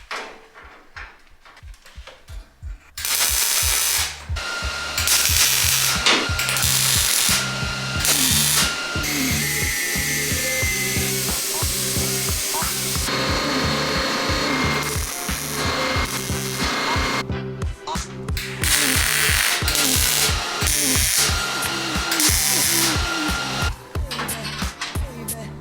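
A power tool cuts slits into a car body panel for a custom widebody BMW E28 front splitter, giving loud, rapid stuttering bursts of grinding and rattling, with short pauses between the cuts.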